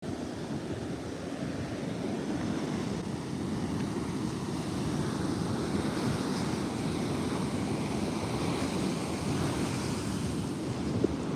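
Surf rolls up a beach during agate hunting, a continuous broad wash of waves and water with wind buffeting the microphone, steady and loud throughout with no talking.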